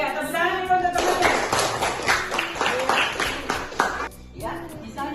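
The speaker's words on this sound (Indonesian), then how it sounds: "tepuk tangan dulu untuk temannya." Students in a classroom clap for a classmate, a dense burst of applause lasting a few seconds with talk over and after it.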